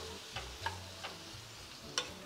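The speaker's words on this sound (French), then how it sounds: "on prend une grande poêle ou un wok, on ajoute un filet d'huile d'olive et on fait cuire les crevettes pendant environ 5 minutes" Shrimp fry quietly in olive oil in a large pan or wok, a soft steady sizzle broken by a few light stirring clicks and taps, faint and close.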